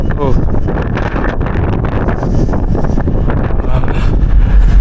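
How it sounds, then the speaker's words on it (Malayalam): Strong wind buffets the microphone on the open deck of a fast Baltic ferry between Tallinn and Helsinki, a loud continuous roar and rumble with a voice talking over it. "നല്ല കാറ്റുണ്ട് ഇവിടെ"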